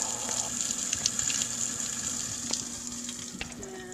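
A kitchen faucet runs into a sink with a steady close hiss and spatter, moderately loud and continuous, with no one speaking.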